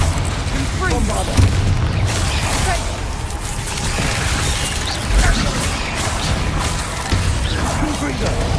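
Booming Bombarda spell blasts in Hogwarts Legacy erupt repeatedly over a dense, noisy battle mix, with low rumbling impacts around 1.5 and 5 seconds and shouted spell names over the top.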